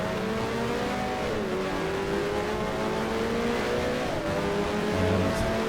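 Race car engines in the F1 Challenge game, set in the 1973 Swedish race, whine steadily at high revs with pitch shifting through gear changes, several cars droning close together without letup.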